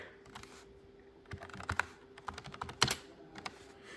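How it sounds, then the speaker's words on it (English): Typing on the keyboard of a Twentieth Anniversary Macintosh, a close, irregular run of clicky keystrokes with a few louder taps, fairly quiet over a faint steady hum. "Here's a keyboard, by the way."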